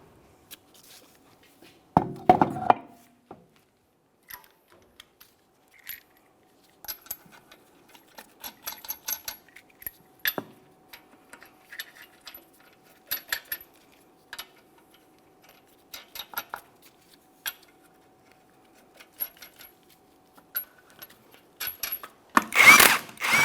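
Metallic ratcheting and clicking of 21mm lug nuts being started and run down on a front wheel of a 2008-2017 Mitsubishi Lancer 2.4L, quiet intermittent ticks in short bursts with a louder rattle near the start and end.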